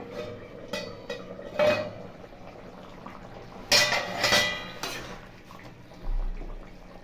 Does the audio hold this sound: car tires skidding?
no